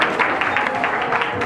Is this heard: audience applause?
yes